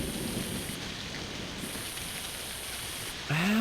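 Steady video game rain hisses evenly throughout, with a brief higher whine cutting in near the end.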